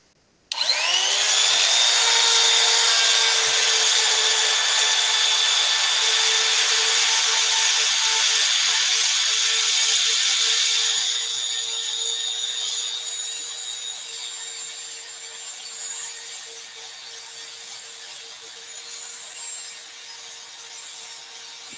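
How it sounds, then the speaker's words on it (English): A loud power buffer whines steadily at high speed, starting abruptly, then drops to a lower, quieter drone partway through while running continuously, buffing polymer clay. "Let's get on and buff this. Now this is noisy."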